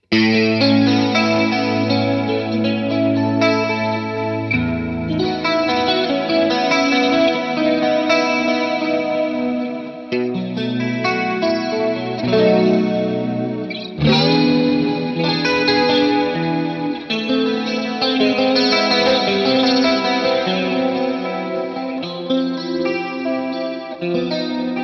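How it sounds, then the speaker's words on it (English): Electric guitar played through a Hotone Ampero Stage II with the Ambience 2 delay effect gives lush, chorus-tinged, slightly distorted chords with echoing trails, loud and continuous with no talk. "I think I use the Ambience 2, which is really sounding nice."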